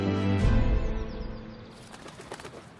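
Birds sing in native bush beside a quiet lane on Waiheke Island, New Zealand, with a soft cooing or flutter early on and then scattered chirps, fairly close over a gentle outdoor background.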